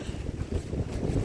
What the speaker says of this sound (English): It's still raining and it is extremely windy.